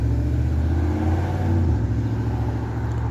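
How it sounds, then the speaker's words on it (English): Cars pass loudly on an outdoor street, a close continuous engine rumble and whir that swells and eases as vehicles go by, with no talking over it. "it's loud out here, cars out here."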